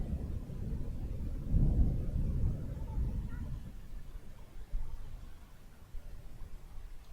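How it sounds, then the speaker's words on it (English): Thunder rolls on continuously over a cricket match in Japan, a low, deep rumble that swells and fades under faint background noise. "You hear the continuous roll of thunder."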